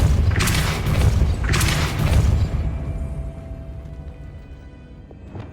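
A Depulso spell cast in the video game Hogwarts Legacy, two loud booming bursts in quick succession followed by a fading rumbling tail.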